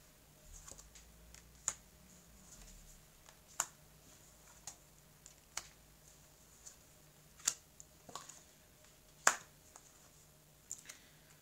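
Tarot cards spread out across a table: sparse, quiet clicks and soft taps at irregular intervals over a faint, steady room hum, with no voices.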